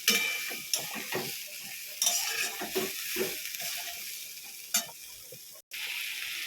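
Drumsticks fry in spice paste with a gentle sizzle as a spoon scrapes and stirs in quick, irregular strokes, followed by a brief silent break.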